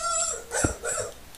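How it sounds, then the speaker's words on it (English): Dog barking somewhere in the background, a couple of short muffled barks and whimpers, faint and distant behind a quiet room. "Dogs barking in the background."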